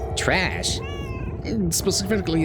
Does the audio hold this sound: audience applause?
no